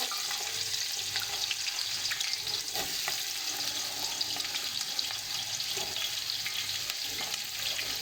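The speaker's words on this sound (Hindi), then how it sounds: "प्याज का कलर लाइट ब्राउन होने तक अच्छी तरह फ्राई करेंगे" Finely chopped onions, a whole kilo, fry in hot oil for haleem, giving a steady, dense sizzle with faint stirring scrapes running evenly throughout, no voices.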